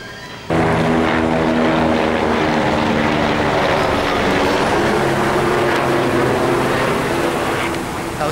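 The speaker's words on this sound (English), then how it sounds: "Helicopter." A loud, steady rotor and engine roar from a helicopter flying overhead in Houston, starting abruptly and holding for several seconds before easing slightly at the end.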